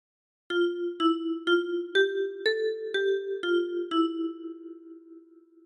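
Ten-key kalimba plucked in a slow phrase of All Through the Night, eight bright ringing tines in an even rhythm, the last notes left to decay into quiet.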